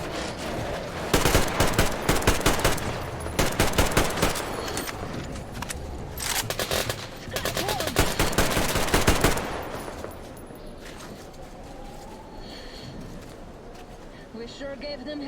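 Rapid bursts of automatic gunfire and shooting in Metro Exodus as a pack of creatures attacks, loud and dense for about nine seconds, then fading into quieter ambience with distant movement; a voice speaks briefly underneath.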